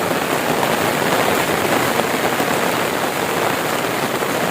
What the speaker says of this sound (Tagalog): Ang kakusog ang ulan.